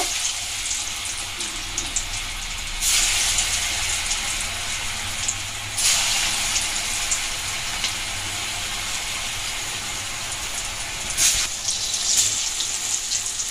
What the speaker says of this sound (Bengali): এবার বলগুলো ভেজে নেব।